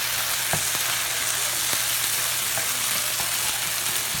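Hash browns fry in olive oil with a steady, soft sizzle and faint crackle that runs evenly throughout, with a few light pops and no talking.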